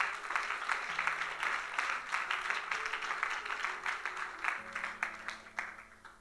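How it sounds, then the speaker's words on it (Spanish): A church congregation applauds to praise the Lord during a sermon, with steady dense clapping from many hands that carries on for several seconds at moderate loudness. "aplauda al Señor"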